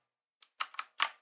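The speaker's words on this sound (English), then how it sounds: "Can I start typing right away?" Keyboard typing on an iPad or Mac: a short run of four or five crisp key clicks, close and quiet, after a brief silence.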